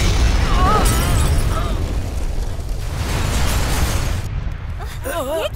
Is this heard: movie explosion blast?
yes